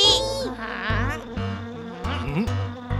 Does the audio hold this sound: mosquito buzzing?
yes